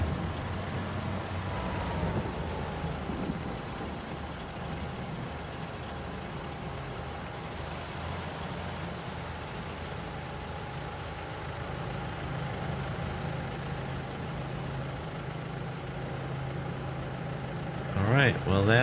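A tractor engine in Farming Simulator 22, out in the rain during grass work, idles and rumbles steadily at a moderate level for the whole stretch, with a brief louder mechanical burst near the end.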